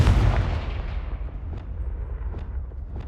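Confringo fire spell blast from Hogwarts Legacy, a loud booming burst at the start that rolls into a rumbling tail, with a few fainter crackling impacts following.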